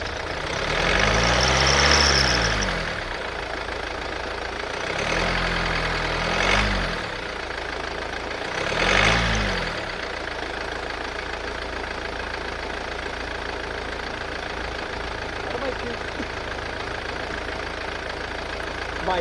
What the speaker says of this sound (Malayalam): ഇനി ഞാൻ ജസ്റ്റ് വണ്ടി ഒന്ന് സ്റ്റാർട്ട് ചെയ്ത് തരാം